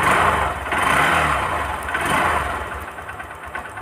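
A Honda Verza 150 motorcycle engine, just started, settles into a steady close idle with a moderately loud, rough mechanical chatter.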